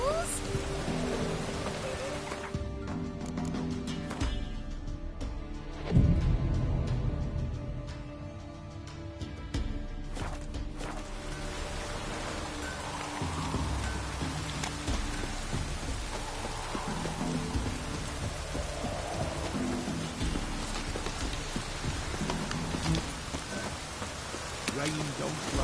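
Steady rain in The Witcher 3: Wild Hunt, a dense hiss of falling water with pattering drops, faint rumbles and a brief low thud early on, continuing without speech.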